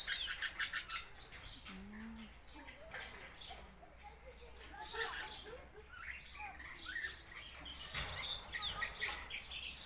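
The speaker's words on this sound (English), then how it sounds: "Rainbow lorikeets" Rainbow lorikeets in a breeder's aviary give shrill squawks and rapid chirps, loud and close, with wing flaps and other parrots calling, while people talk faintly in the background.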